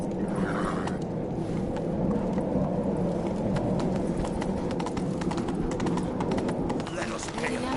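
A horse gallops in the game The Witcher 3, with rapid hoofbeat clip-clop running steadily under a rumbling game soundscape while a voice talks over it.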